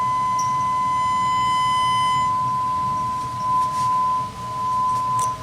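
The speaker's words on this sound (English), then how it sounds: "Okay, now it's pure." A steady pure sine-wave test tone holds alone at one pitch, clean and continuous, with a faint hum of background noise beneath it throughout.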